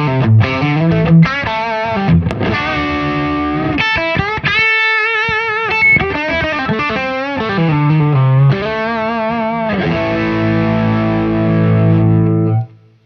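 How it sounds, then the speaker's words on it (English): Sustained electric guitar notes and chords ring out through a Boss CS3 compressor and a TS9 overdrive, thick and distorted with long, even sustain, played alone and loud before stopping abruptly. "let's go with all the compression of the Boss CS3"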